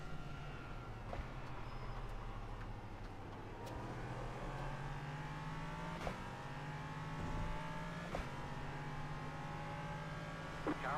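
Race cars drive around Daytona during the Roar Before the 24, with a steady engine drone and harmonic whine that rise and fall as cars pass nearby, and a few sharp shift blips along the way.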